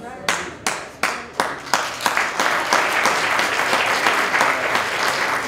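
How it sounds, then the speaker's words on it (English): A lecture audience at a community unity event breaks into applause, starting as a few separate sharp claps and swelling into steady, loud clapping from many hands. "I don't always get too many claps on that one"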